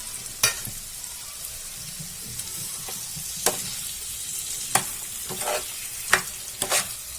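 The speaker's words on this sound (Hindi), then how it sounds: "पनीर डालेंगे और इसे भी हम मिला लेंगे।" Paneer is stirred into a sizzling matar masala in a pan, a low continuous fry broken by several sharp scraping strokes of the spoon at irregular intervals, close and with no talking.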